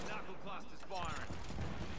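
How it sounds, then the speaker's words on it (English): Fuse's knuckle cluster fires in Apex Legends, giving a few bursty pops and crackles that build toward a sharper blast at the end. Speech-like chatter runs underneath. "Knuckle cluster's firing."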